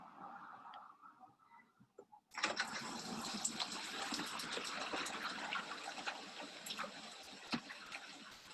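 Rain falls on a small backyard rain garden. Near-silence gives way abruptly to a steady hiss of rainfall, with scattered soft taps of drops throughout.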